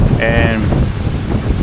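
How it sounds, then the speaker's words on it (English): Strong wind buffets the microphone at a stormy Florida beach on Lake Worth, a loud continuous rumble with a voice speaking briefly over it. "It's very windy."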